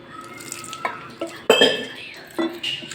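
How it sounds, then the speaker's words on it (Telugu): Gram flour batter is stirred with a spoon in a bowl as a little water is added, giving scattered wet clinks and scrapes in short irregular bursts, close and moderately loud. "మొత్తం ఇలా కొద్దిగా వాటర్ వేసుకొని కలుపుకోవాలి"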